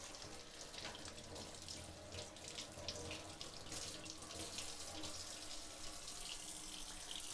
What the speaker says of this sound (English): I'm just gonna wash these underwater.